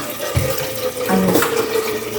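Water running steadily from a tap into a container for making hot coffee, loud and continuous, with no talking.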